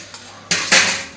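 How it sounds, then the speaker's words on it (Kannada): Fish being mixed with masala in a metal vessel: a few sharp clanks and scrapes of metal against the pot in quick succession, close and fairly loud. "ನೋಡಿ ಗ್ಯಾಸ್ ಮೀನನ್ನು ಮಿಕ್ಸ್ ಮಾಡ್ತಾವ್ರೆ."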